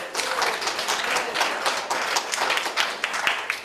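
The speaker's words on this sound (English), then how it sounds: "give yourselves a round of applause, because that's something to be proud of" Applause from a gathered crowd at a birthday celebration, a steady bright patter of many hands clapping throughout, fairly loud and continuous with no clear voices over it.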